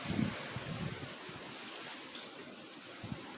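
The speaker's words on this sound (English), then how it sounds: "It's too windy today." Steady wind blusters outdoors, a broad rushing noise with low buffeting rumbles against the microphone, no voices present.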